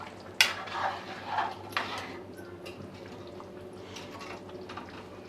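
A spoon stirs a vegetable curry of tomatoes, coriander and salt in a pot, with a few sharp metallic scrapes and clinks early on, then softer, quieter stirring noises over a low steady background.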